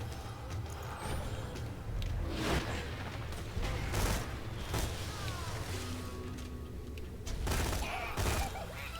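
Gunfire from a Seraphim, Scorpio and Veruc in Borderlands 2, fought as Maya in Lynchwood, crackles in repeated rapid bursts over a constant busy game din, with several louder volleys standing out.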